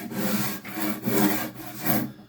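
A rasp's smooth side scrapes back and forth across a wooden bass guitar neck being shaped, giving four or five rhythmic rough strokes close up with no talking.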